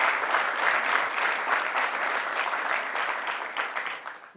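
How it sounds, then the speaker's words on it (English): A large audience of business leaders applauds for two mayors, a loud, dense and sustained clapping that tapers off toward the end. "let's give a round of applause to both our mayors"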